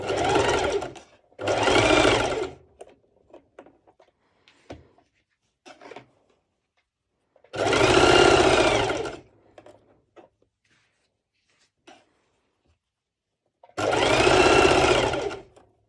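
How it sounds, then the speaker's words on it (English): A sewing machine runs a basting stitch on mesh lycra in three or four separate loud bursts, each lasting a second or two, with quiet pauses and faint handling noises between them. "I will be doing first a basting stitch."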